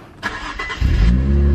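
Infiniti Q50 car engine cranking and starting after an oil change, a short starter whir that catches into a loud, steady low idle rumble, close by with no talk.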